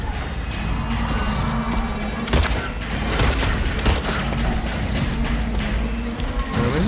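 Rapid gunfire from a video game shooter, with dense bursts and booming shots layered over a constant loud background of game noise and effects.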